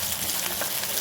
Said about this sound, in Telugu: ఇప్పుడు ఆనియన్స్ వేసుకుందాం. ఆనియన్స్ కొంచెం వేగాలి